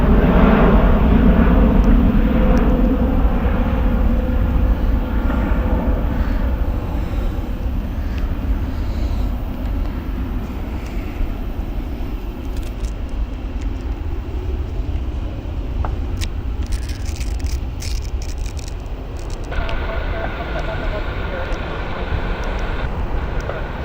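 Ryanair airliner arriving on the Dublin flight at Gatwick Airport, a loud broad roar of jet engines up close that slowly eases off over the span, with no talking.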